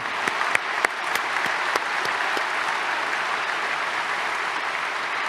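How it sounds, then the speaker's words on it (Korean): Audience at a church service anniversary celebration applauding three honored people, steady close clapping from a crowd with a few sharp louder claps early on, sustained throughout. "이 시간을 빌어서 세 분에게 우리 박수를 한번 격려하시고 축복하셨으면 좋겠습니다"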